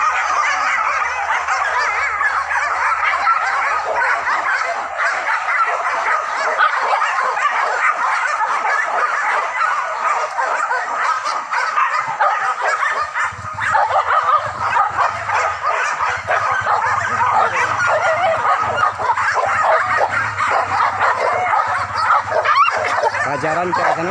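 Hunting dogs in a forest, yipping, whimpering and barking continuously and fairly loudly, with people talking over the dogs throughout.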